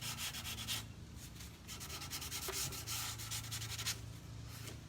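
Hand sanding of painted wooden furniture to distress the finish, a steady close scratchy rasp of sandpaper on wood with rhythmic back-and-forth strokes throughout.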